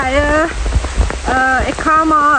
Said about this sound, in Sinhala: අද මාර වැස්ස